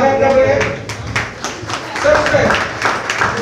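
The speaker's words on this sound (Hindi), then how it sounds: "और हमारी जोरदार तालियां बजा दें सभी लोग" An audience claps at a women's day ceremony honouring women, a short burst of rhythmic, moderately close hand claps heard together with a speaking voice.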